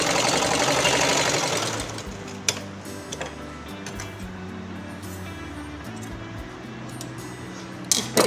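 A sewing machine stitching buckram strips folded to the right side, running with a fast, steady mechanical ticking rhythm up close, with brief clicks as the stitching stops and starts.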